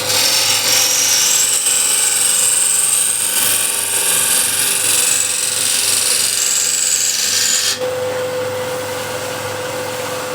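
Steady high-pitched power-tool whine of a Tomasic Refiner scraper cutting into wood and throwing shavings, loud and continuous, dropping to a lower, thinner hum near the end.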